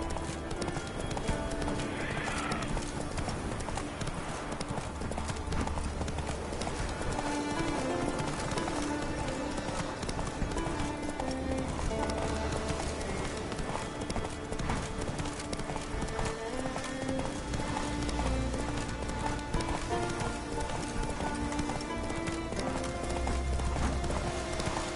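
Hoofbeats of Roach, a horse in a PS4 video game, clip-clopping in a steady running rhythm under continuous game music, with a brief whinny and someone speaking now and then.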